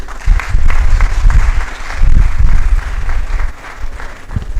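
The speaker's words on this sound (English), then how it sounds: "Can we sustain the applause for our Vice Chancellor, Professor J.O. Ojodino?" Sustained audience applause in a hall at a university inaugural lecture, dense and loud clapping rolling on without a break.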